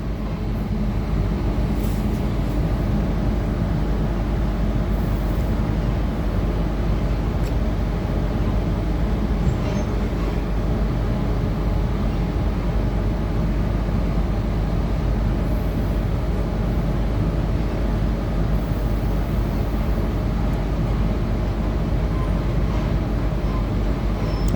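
Interior of a Sydney Trains T4 T-set running between stations on the Hurstville to Waterfall line, a continuous loud low rumble and roar of the carriage in motion with little variation, and faint voices now and then underneath.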